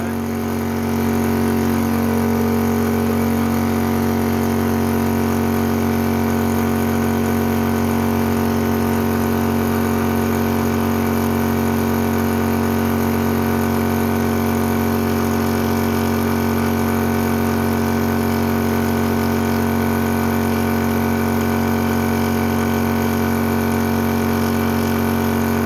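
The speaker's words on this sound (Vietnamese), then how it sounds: "tiếng bơm thì rất chi là êm" A 2023 Xin Yong Shi PCP high-pressure air pump runs continuously with a strong steady motor hum and a constant whirring drone, close and even throughout with no breaks.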